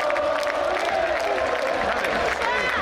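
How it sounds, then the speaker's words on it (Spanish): Football stadium crowd at a Tigre versus Lanús match applauding a player, a dense, steady wash of clapping and crowd noise filling the whole stretch, with a commentator's voice running over it. "Se gana los aplausos"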